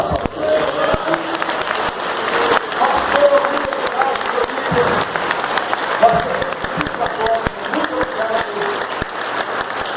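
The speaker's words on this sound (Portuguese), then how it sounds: "Vocês podem aplaudir isso." Church congregation applauding during the 69th anniversary celebration of Assembleia de Deus Guarulhos, a dense, steady wash of clapping filling the room for the whole stretch, with some crowd murmur and voices mixed in.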